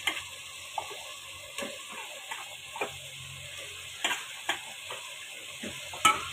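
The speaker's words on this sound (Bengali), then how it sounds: "এটা আমি ভালো করে নেড়ে চেড়ে দিলাম।" Beans, potato and tomato are stirred in a pan in a quiet kitchen, with a faint sizzle under scattered soft scrapes and clicks of a spoon at irregular intervals.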